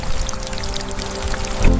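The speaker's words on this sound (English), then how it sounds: "A massive storm strikes, wind and rain lashing against the hanging paper nest." Storm rain lashes and pours against a hanging paper nest in a steady, loud, close wash of water, with a heavier gush near the end.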